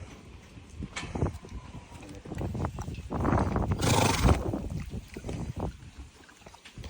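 A mare snorts and whinnies amid shuffling hoof sounds and outdoor background noise, with one louder breathy burst in the middle.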